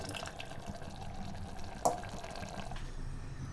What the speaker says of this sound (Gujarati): શાકમાં હવે થોડું ઘણું પાણી નાખવાનું છે